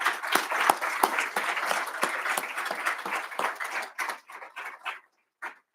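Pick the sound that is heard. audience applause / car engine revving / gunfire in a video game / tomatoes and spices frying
audience applause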